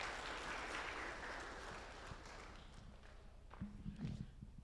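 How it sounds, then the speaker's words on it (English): Applause from an audience at an enterprise kick-off meeting greets an arriving speaker, a broad steady clapping that gradually thins out, with some footsteps and murmuring near the end. "A round of applause as he comes, please."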